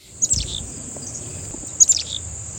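Two brief, high bird calls from a black-capped chickadee, about a second and a half apart, against a quiet background.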